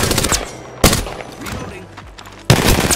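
Heavy gunfire during a video game gunfight, with dense rapid automatic bursts and sharp loud cracks close by, broken by a brief quieter lull.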